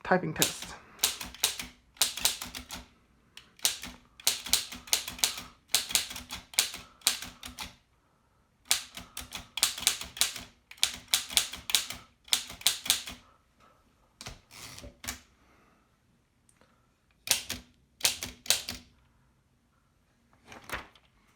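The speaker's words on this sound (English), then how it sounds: "this is the Smith Premier number 4 typing test" Bursts of rapid mechanical typing on an antique Smith Premier No. 4 typewriter, sharp clacks in quick runs separated by short pauses, close and clear.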